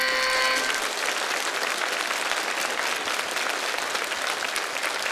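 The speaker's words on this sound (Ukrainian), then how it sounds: "Макс, весь зал тобі аплодує за чудовий настрій, який ти нам подарував" A studio audience at a stand-up comedy show applauds, a loud, dense and steady wash of clapping that runs continuously for several seconds, opening over a brief musical tone.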